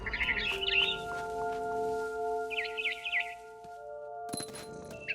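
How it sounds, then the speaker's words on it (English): Barn swallow chirps from What Remains of Edith Finch, two bursts of bright twittering calls over a steady sustained game-music drone, with a sharp clatter near the end. "Then I heard chirping outside my window. It was a barn swallow going back to her nest."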